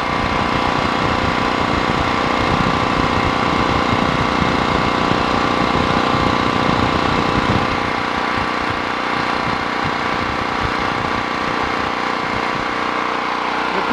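A petrol generator runs on half choke, its loud, steady engine drone close by and rough with a fast knocking pulse that eases slightly toward the end.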